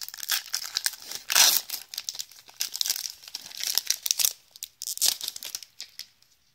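Crinkling and tearing of a foil wrapper as a 2012-13 Upper Deck Black Diamond hockey card pack is opened, close and continuous, with bursts of rustling and a sharper rip near the start.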